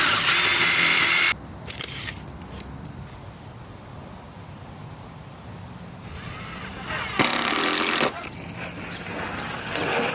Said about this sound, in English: Mark here where I'm gonna drill a hole for our marker.